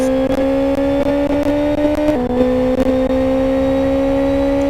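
Racing cars at a Kent AutoPrix event hold a loud, steady engine drone on a drag strip, with brief gear-change dips and small revving bursts near the start.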